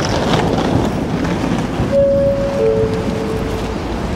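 Loud, steady rumbling of a train at a small station platform in Slovenia with wind-like rushing noise, and a sustained tonal whistle or horn-like note that enters partway through and fades.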